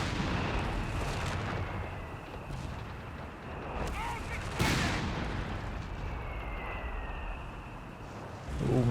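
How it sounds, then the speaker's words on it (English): Artillery barrage of 75mm shells in the World War II strategy game Company of Heroes 3, a dense rumble of distant and mid-range blasts with one sharp impact near the middle, under game noise and commentary. "75mm barrage."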